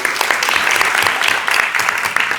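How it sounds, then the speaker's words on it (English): Audience at a school district community meeting claps for a student honoree, a brisk burst of close, dense hand claps with scattered louder individual claps. "Okay, Mr. Parks, let's clap for him"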